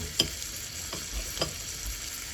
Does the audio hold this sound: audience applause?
no